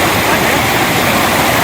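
Floodwater rushing steadily through a waterlogged residential layout after heavy rain, a loud continuous broadband roar with no breaks or voices.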